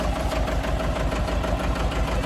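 A farm tractor's engine idles nearby, a loud, steady, low throbbing with a fast, even knock that stays constant throughout, with no voices over it.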